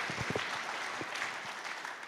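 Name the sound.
congregation applauding in church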